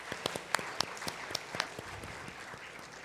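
A small audience at an awards day ceremony gives a round of scattered, light applause, with sparse individual claps standing out over a soft background murmur throughout.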